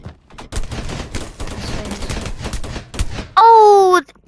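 Gunfire in the shooter video game Energy Assault, a dense rapid volley of loud shots filling most of the moment, ending in a sustained electronic tone, with no speech.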